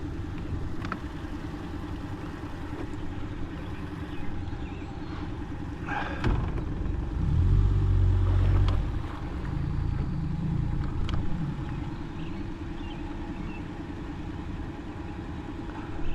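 A Tracker Panfish 17 boat motors toward a dock, its engine a low, steady drone that swells briefly midway before settling back to a quieter idle-like hum.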